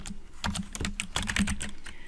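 Quick, rapid clicking of keys on a computer keyboard, close and continuous for a couple of seconds with no voices.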